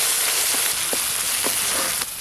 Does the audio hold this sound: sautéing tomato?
yes